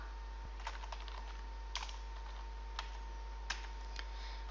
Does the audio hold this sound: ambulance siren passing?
no